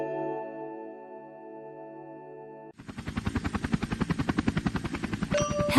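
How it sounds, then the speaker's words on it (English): A cartoon helicopter's rotor chops in a fast, steady, rhythmic pulse that grows louder, following a held musical chord and ending with a bright chime. "Helly is the fastest helicopter at the fire station."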